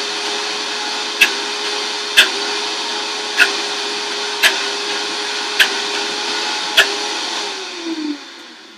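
Vitamix blender at the end of a nut butter batch, a steady loud motor drone with sharp periodic clicks or knocks about once per second, the pitch sagging as it winds down near the end.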